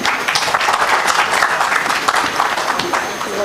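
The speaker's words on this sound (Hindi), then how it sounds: "अब आप तालियां बजाएं।" Audience applause at a Delhi mushaira poetry gathering as a poet takes the stage: a full, dense wash of many hands clapping steadily throughout, fairly loud and close.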